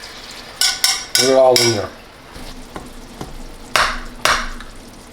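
A spoon scrapes and stirs roux across the bottom of a pan for Livornese-style salted cod stew, coming in a few loud, close bursts of scraping separated by quieter moments, with a brief spoken phrase near the start.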